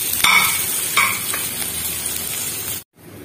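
Cumin seeds and curry leaves frying in hot oil in a kadai, a steady close sizzle with a few sharper crackles and stirring scrapes near the start, then a sudden cutoff into silence near the end.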